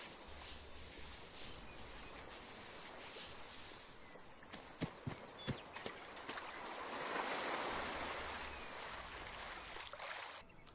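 In ArmA 3, a faint wash of surf and water ambience plays with a few soft footstep impacts near the middle, quiet and without talk.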